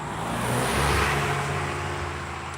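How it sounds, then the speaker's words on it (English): A car passes by on a nearby road, its engine and tire noise swelling to a peak about a second in before fading steadily as it moves away. "I got to wait for this car to go by"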